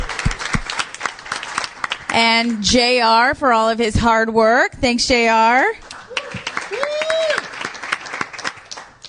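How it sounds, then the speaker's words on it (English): Audience applause for Thomas Rigler of Rigler Creative Solutions at a digital content summit on crowdfunding comedy, a broad wash of clapping running under a voice that speaks over it throughout. "Can we give a round of applause?"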